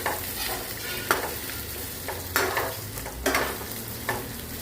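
Stuffed okra (bhindi) fries in hot oil with a steady sizzle, and a utensil stirs it in several periodic scraping strokes close by.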